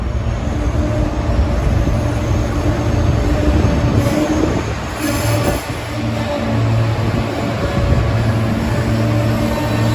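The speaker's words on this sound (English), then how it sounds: "Here comes a train for Newark," A SEPTA push-pull commuter train bound for Newark, Delaware rumbles past outdoors, a steady broadband roar holding loud and close for the full stretch with a brief dip midway.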